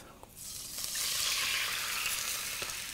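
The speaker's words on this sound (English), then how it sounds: "Gonna totally deglaze the pan there." Beer and beef broth hit a hot pan to deglaze it, bursting into a loud, steady sizzle that swells quickly and holds, with a few small clinks of a utensil scraping the pan.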